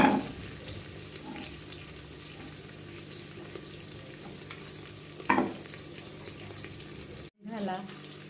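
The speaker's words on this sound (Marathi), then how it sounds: "हिरव्या मिरच्या छान परतून घ्यायचं." Green chillies for matar pulao fry in a pan with a constant close sizzle, broken by a few scraping stirs. The sound cuts out for a moment near the end, then the frying resumes.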